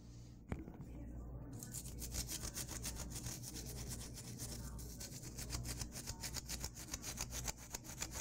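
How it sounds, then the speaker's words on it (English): A toothbrush scrubs a dental retainer in quick, steady back-and-forth strokes, a close, faint rhythmic bristly rubbing that continues throughout after a brief tap at the start. "And you brush your retainer the way you brush your teeth."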